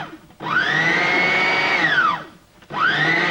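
A kitchen blender chops food for a Greek recipe in two short pulses. The motor whines up, holds, then winds down between bursts, loud and close.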